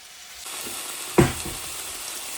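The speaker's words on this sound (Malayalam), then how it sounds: "കട്ട് ചെയ്ത് കത്തിക്ക് തന്നെ ഇങ്ങനെ കുത്തിയെടുത്ത് ചട്ടിയിലോട്ട് വയ്ക്കുകയാണ്" Cut meat pieces dropped into a hot pan, a soft sizzle rising with a sharp hiss as a piece lands, then steady frying close by.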